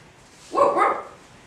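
A voice imitates a frightened dog's bark in a Catalan reading of a Tintin comic, one short yelping burst at mid-clip, close and fairly loud against a quiet background.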